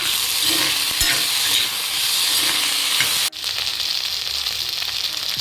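Masala Maggi with turmeric and salt being stirred in a hot pan, a loud continuous sizzle and scraping up close, briefly cut and then resuming.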